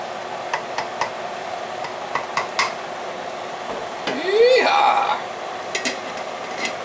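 Hearty stew is stirred in a pot, with faint scattered ticks and clinks and one louder scraping sweep midway. A voice talks quietly in the background.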